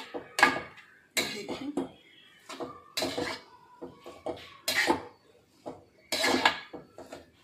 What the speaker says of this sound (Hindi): अभी हम फिर इसको अच्छे से चला देंगे। इसमें अच्छे से सब्जी मिक्स करना है।